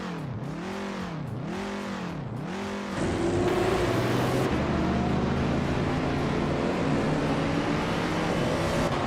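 Race cars roaring off the start at Bowman Gray Stadium, including a 1973 Porsche 911 RS, with engine revs rising and falling before merging into a loud, sustained wall of engine noise.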